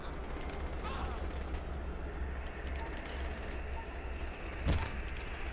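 Gunfire in Saints Row: The Third, a steady game-action din with a few sharp shot transients, one louder crack standing out near the end.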